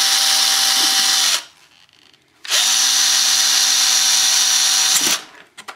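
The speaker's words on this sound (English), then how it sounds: "while I drill the second one" A power drill bores a hole through a rotor mast in two long bursts of steady high whine, each about a second or more, separated by a short pause, close and alone.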